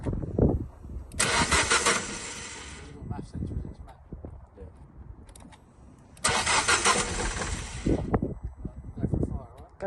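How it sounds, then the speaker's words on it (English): An Abarth 500 with a swapped engine cranks and starts up in two loud, close bursts of starter-and-catch noise, with a rough idle rumbling in between and people talking over it. "I'm now going to insert a few clips of the initial start up and from the first driving up and down the roads."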